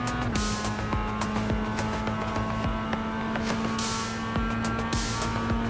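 A Mazda MX-5 Cup race car in the iRacing simulator at VIR North, its engine droning steadily with a sustained tonal hum and small pitch shifts as the throttle is adjusted, continuous and moderately loud with no talking.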